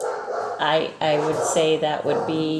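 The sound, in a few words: dogs barking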